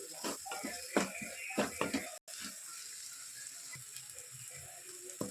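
Egg rice fries in a pan with a continuous steady sizzle, close and moderate, while a utensil knocks and scrapes through it in short bursts during the first two seconds.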